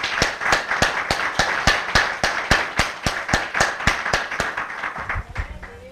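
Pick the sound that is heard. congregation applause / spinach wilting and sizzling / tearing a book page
congregation applause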